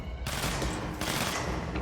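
Video game gunfire: a loud, dense volley of rapid automatic shots that begins abruptly and continues with a second surge partway through, close and with no voice over it.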